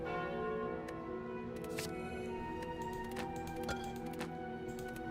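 Cursed Bell relic in the video game Slay the Spire: a ringing bell tone with a lingering metallic resonance, set over continuous steady game music, with a few sharper struck accents.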